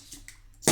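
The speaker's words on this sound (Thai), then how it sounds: "เปิดเบียร์แล้ว" A beer being opened at a casual meal, a soft fizzy pop and hiss bursting out sharply at the end after a few faint clicks.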